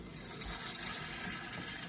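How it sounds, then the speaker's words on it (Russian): Water streams steadily into a bowl of dry macaroni, a faint continuous pouring hiss lasting under two seconds with no talking. "Дальше мы заливаем их водой."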